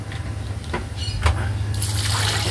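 Water is poured into a cooking pot holding lemongrass for beef bulalo soup, starting as a steady, close splashing rush after a few faint knocks and clinks.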